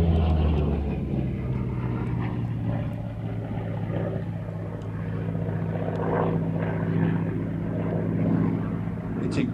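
A Grumman Bearcat propeller fighter climbs at an air festival, its piston engine and propeller making a sustained low droning roar that swells and fades slightly over several seconds, with a commentator talking over it.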